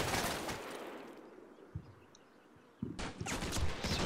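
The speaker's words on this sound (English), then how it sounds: "that's Sir Samson taking some pot shots at these guys" Distant gunfire from soldiers in the CMSF2 war game, a burst of shots at the start, a lull with faint pops, then a louder cluster of rifle fire near the end.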